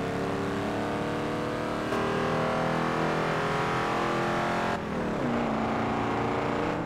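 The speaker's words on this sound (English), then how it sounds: "Nice low revving, rumbling V8." An 80s V8 car with an automatic gearbox in Forza Horizon 2 rumbles and revs low and steady, its pitch climbing through a gear then dropping at a shift near the end.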